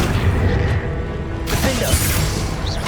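Confringo fire spell explosion in the Hogwarts Legacy video game, a loud, dense booming blast with rumbling low end, followed by a second burst and lingering crackle amid game noise.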